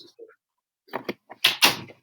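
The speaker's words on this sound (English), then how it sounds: "Now the door is closed and the dog is locked out." A door shuts in a couple of close, brief knocks and a thud following faint rustles, with no talk.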